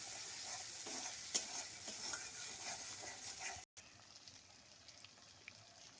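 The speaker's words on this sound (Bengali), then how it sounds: "মশলাটা আমার খুব ভালোভাবে কষানো হয়ে গেছে সাইডেও তেলটা ছেড়ে দিয়েছে" A poppy-and-mustard masala paste for a bata fish curry is fried in oil in a pan, with steady close sizzling and soft stirring scrapes, one sharp clink early on and a brief drop-out before the frying continues more quietly.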